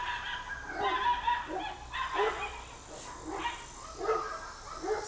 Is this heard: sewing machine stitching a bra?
no